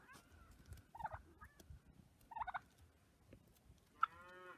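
Two short bursts of turkey gobbling, then a longer rattling call near the end, moderately close with quiet outdoor background between.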